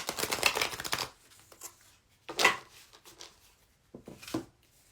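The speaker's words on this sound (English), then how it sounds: "I'm going to shuffle this and see what comes up." Two bursts of oracle card shuffling, a longer riffle at the start and another midway, with a brief softer shuffle near the end; close and otherwise quiet.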